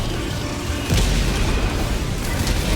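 An explosion in Helldivers 2, a muffled boom heard over steady broadband rumble from the game.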